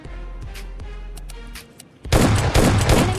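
Scar-L gunfire in PUBG Mobile Lite: scattered faint clicks and thumps, then a loud burst of rapid rifle shots erupting near the end and continuing to the cut.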